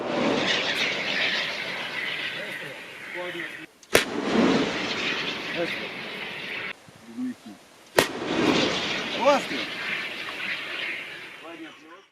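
Self-propelled 2S22 Bohdana howitzer firing in the field, with two sharp, loud blasts a few seconds apart cutting through a noisy outdoor background and people talking around them.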